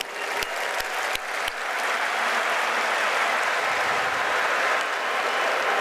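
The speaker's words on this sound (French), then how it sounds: "Ils méritent certainement nos applaudissements" Crowd applause at the inauguration of the Abdoulaye Wade stadium in Senegal, opening with a few sharp claps and swelling into a dense, steady roar of clapping from a large audience that holds loud and sustained.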